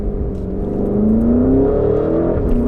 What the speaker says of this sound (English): you always have this nice V8 sound in the interior